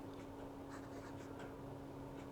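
A fountain pen nib, on an Opus 88 Demo pen, scratching softly across paper in short strokes, faint and close under a steady background hiss.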